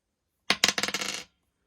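An eight-sided die drops onto a hard surface and clatters in a quick burst of rattling bounces lasting under a second, close and fairly loud, followed by silence.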